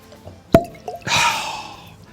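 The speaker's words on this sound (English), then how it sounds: "Let's go ahead, pop the cork." A cork is pulled from a bottle of Keeper's Heart whiskey finished in maple syrup barrels, making one sharp, close pop followed by a short hollow ring and a soft rustling tail.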